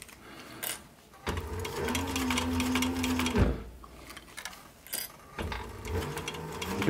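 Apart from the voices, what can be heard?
sewing machine stitching a sweatband onto a sun visor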